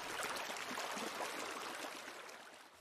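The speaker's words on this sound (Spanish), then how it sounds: "El murmullo del río y las piedras." A river murmuring over stones, a steady broadband rush of flowing water that stays close and continuous throughout, with no voices.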